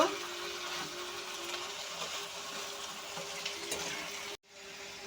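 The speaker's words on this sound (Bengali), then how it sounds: "এখন এই বটিগুলি একটু হালকা করে ভেজে নেব একটু লবণ দিয়ে দেব হালকা করে ভেজে নেব" Yardlong beans fry gently with salt in a pan, giving a soft, even sizzle with a faint steady hum underneath, broken by a brief cut near the end.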